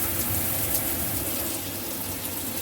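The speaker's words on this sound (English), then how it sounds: "hot and cold water now we've got in the shower" A shower in an old house in France runs hot and cold water in a steady, close, hissing gush with no break, and no one speaks.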